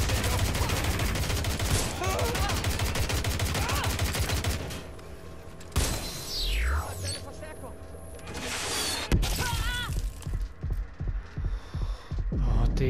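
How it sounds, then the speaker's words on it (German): Rapid video-game gunfire in Watch Dogs: Legion: dense, loud bursts of shots fill the first few seconds, then scattered single shots and short volleys follow, with a voice talking over them. "Wir werden beschossen."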